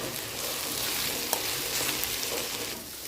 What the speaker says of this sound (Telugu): వంకాయలు బాగా ఫ్రై అయ్యాయండి